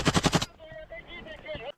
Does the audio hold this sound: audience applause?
no